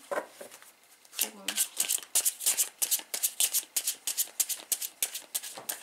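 Tarot cards are shuffled and drawn in a quick run of crisp, rhythmic riffling flicks close by, while someone speaks over them.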